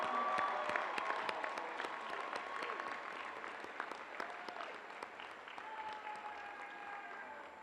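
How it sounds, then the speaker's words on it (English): Applause fills the hall at the Bergen Community College commencement ceremony, a broad, sustained clapping from a large crowd that slowly fades a little over several seconds. "give all of the parents, the children, the siblings, the spouses a huge round of applause"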